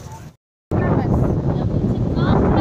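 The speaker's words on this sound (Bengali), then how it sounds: "সুন্দর হাওয়া" Sea breeze on Chakratirtha beach in Puri buffets the microphone with a loud, steady rumbling roar that resumes after a brief moment of silence.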